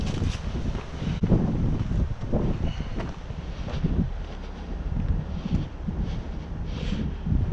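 Steady wind buffeting the microphone outdoors while straps are thrown over a flatbed lumber load, loud continuous rumbling gusts with no talk.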